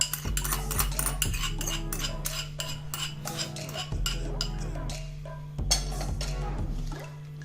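A spoon clinks and scrapes rapidly against a bowl while chicken is mixed with vinegar and beaten egg, a busy run of close metallic taps that eases off near the end, with a steady hum underneath.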